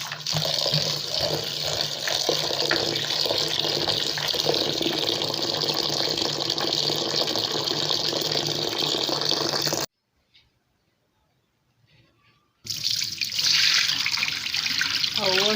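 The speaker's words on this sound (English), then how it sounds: "I'm going to rinse it out very well because there's sand" Soya beans are swished and rinsed in water to wash out sand, a steady close splashing and pouring that stops for a few seconds of near silence before the water sloshes again.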